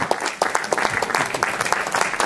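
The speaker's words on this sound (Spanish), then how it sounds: "fuerte aplauso para nosotros." Audience applause at a musical tribute concert, a brief burst of many hands clapping with individual claps distinct, fairly close and lively.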